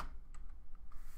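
Someone types on a computer keyboard, producing a handful of faint, uneven key clicks close to the microphone over a quiet room hiss, with no talking.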